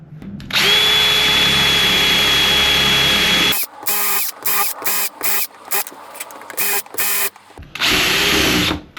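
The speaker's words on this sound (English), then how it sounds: "With a number of drilled holes in, which I will do." A power drill bores holes while making a homemade Mother's Day card, first one long steady whine for about three seconds, then a run of short repeated bursts as several holes are drilled in turn, ending with another sustained run, loud and close.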